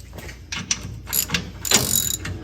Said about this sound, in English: So let me grab a wrench to tighten that up.